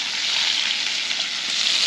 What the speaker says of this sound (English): They can sit and cook in that fat. They can just sizzle away.